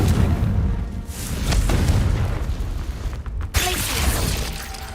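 A Confringo fire spell detonates in the game Hogwarts Legacy, heard as a series of loud booming blasts with crackling bursts, sustained and dense across the moment, ending in a sharp burst.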